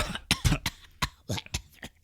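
A burst of several harsh coughs in quick succession, close and loud, with short gasping breaths between them.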